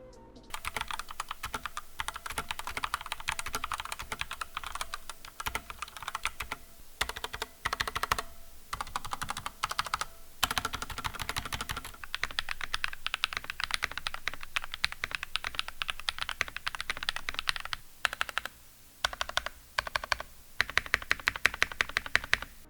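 Fast, continuous typing on a $25 pre-built mechanical keyboard, first stock and then upgraded with about $30 in parts, making dense clacking keystrokes close up with brief pauses between bursts.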